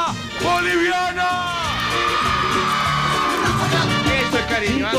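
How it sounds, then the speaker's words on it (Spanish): An audience of Bolivian mothers at a televised event shouting, whooping and cheering together, a loud, sustained crowd roar that fills the whole span with overlapping high yells. "¿Dónde está el grito de la mamá boliviana?"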